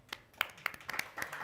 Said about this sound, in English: Round of applause for our audience